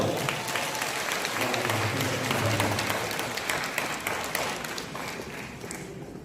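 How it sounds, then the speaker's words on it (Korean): An audience claps steadily for about six seconds, a dense, even wash of many hands that fades slightly toward the end, with faint crowd murmur mixed in. "박수 한번 쳐주세요."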